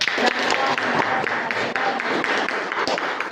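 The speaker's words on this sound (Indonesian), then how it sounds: "tepuk tangan untuk kelompok 1" Students in a science classroom applaud after a group presentation ends. Crisp, brisk clapping from many hands holds a steady pace throughout, with brief vocal sounds mixed in.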